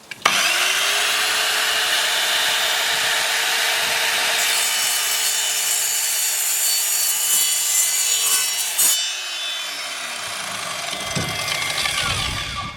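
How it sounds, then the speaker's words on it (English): Evolution R185SMS+ mitre saw cutting through a steel pole, a loud harsh continuous grinding whine with a high metallic ring that fades as the blade spins down near the end. "This time round we've got some nice steel pole and I'm sure it's going to cut it absolutely fine."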